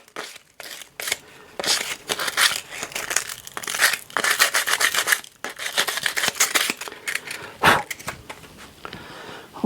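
Sandpaper rubs down a wooden door moulding by hand in quick, rasping, irregular strokes, close and fairly loud, with short gaps between passes.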